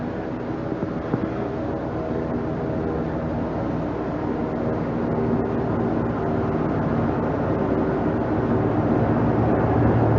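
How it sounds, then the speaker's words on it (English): A Cessna 180 on floats drones steadily overhead in Juneau, Alaska, its engine a constant low hum that holds through the whole stretch without much change. "You can probably hear the sound of a seaplane flying overhead."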